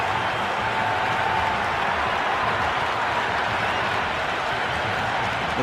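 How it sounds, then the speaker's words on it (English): Steady, dense roar of a stadium crowd cheering at a T20 international cricket match between India and South Africa in the Cricket 26 video game, a continuous wash of noise at even loudness throughout. "The crowd is electric right now."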